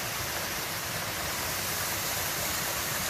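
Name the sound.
waterfall flowing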